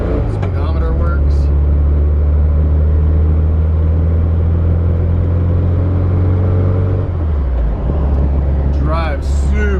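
A 1973 Volkswagen Thing drives along a road, its engine a steady low drone with road rumble throughout, heard from inside while someone talks over it.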